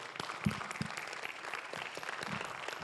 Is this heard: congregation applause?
yes